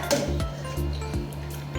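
A spoon stirs coconut milk in a pot over a low stove flame, scraping and clinking against the metal at a steady, unhurried pace, close and fairly loud.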